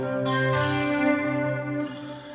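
Clean electric guitar tone through a Headrush rig with a gray compressor, JRC-style drive and chorus, a sustained ringing chord that shimmers steadily with a wide, swirling modulated sheen and slowly fades near the end, no voices.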